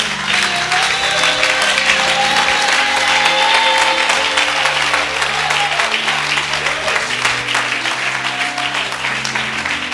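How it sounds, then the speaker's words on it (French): A church congregation gives a loud, sustained round of applause, dense clapping continuing for the whole stretch with a sung or held tone rising over it, close and full. "Si tu es d'accord avec moi, donne un tonnerre d'applaudissements."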